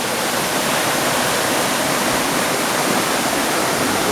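Mag Brook at Honley in flood, rushing high over a pipe along the bank, gives a loud, steady roar of churning water that holds unbroken from start to finish with no voices.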